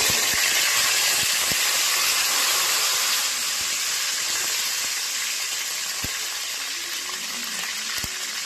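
Curry leaves go into hot oil after mustard seeds have popped, giving a loud, continuous close sizzling hiss that slowly eases, with a few faint ticks and pops.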